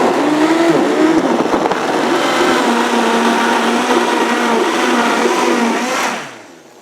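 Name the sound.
blender mixing a green smoothie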